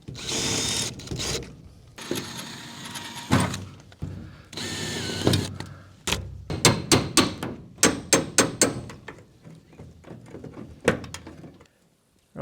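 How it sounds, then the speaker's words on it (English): A cordless drill bores out rivets along the corner roof rail of a 1975 Viscount Ambassador caravan, with whirring bursts followed by a string of sharp metallic clicks and knocks, close up. "just go along with the drill and drill out the rivets in this corner rail"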